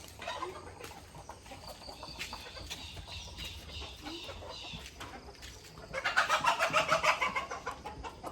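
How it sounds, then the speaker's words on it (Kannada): Chickens cluck and squawk nearby, growing louder and more frantic toward the end as a scuffle breaks out, with a rooster's call in the mix. "ಕೋಳಿಗಳು ಜಗಳ ಆಡ್ತಾ ಇದ್ದಾವೆ"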